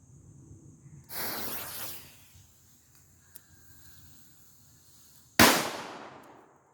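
Two homemade Black Cat firecrackers loaded with 80 milligrams of flash powder go off outdoors, each a sharp, loud crack followed by a hissing spray of noise, the second louder and more abrupt, with quiet between the two pops.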